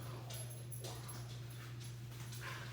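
Holly the dog whimpers faintly on a floor during a yoga session: soft, thin whines scattered over a steady low electrical hum, with no talking.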